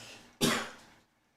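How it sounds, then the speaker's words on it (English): One sharp, close cough bursts out abruptly and fades quickly into quiet. "I just made myself cough there."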